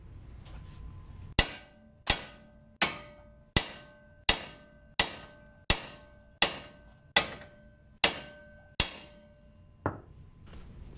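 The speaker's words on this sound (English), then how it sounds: "Then we hit with the big hammer and eventually it'll pop free." A big hammer strikes a stuck bolt on a car near the brake rotor, eleven sharp metallic clangs at a steady, roughly even rhythm, each ringing briefly and decaying, close and loud with no talk.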